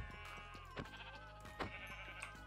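A Minecraft sheep bleats repeatedly in quick wavering cries, clear and close, over a steady low game hum with no talk.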